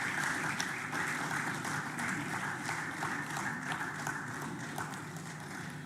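An audience at an inter-school public speaking competition applauds steadily as a speaker walks to the podium, a dense, even clapping that continues throughout at moderate loudness.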